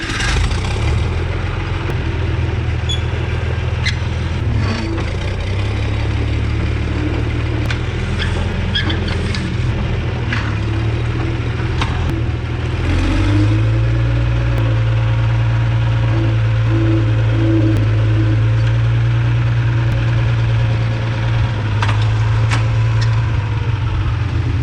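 Old tractor engine running steadily while pulling a disc to the shop, a continuous low throbbing drone that shifts up slightly partway through, close and loud with no talk.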